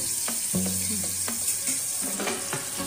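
Stuffed bitter gourd frying in a pan over low gas, a constant close sizzle broken by scrapes and light clinks as the pieces are stirred around.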